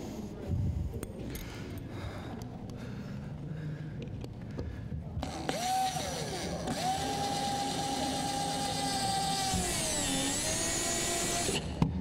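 A power drill whirs steadily for several seconds, its pitch dipping briefly under load, with clattering handling noises beforehand and a faint voice.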